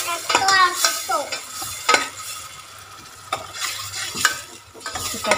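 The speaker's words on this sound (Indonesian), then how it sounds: "Kita tumis sampai naik bau." Spice paste for gulai jering sautés in a pan, a soft sizzle broken by close, repeated scraping stirs of a utensil against the pan, no talking.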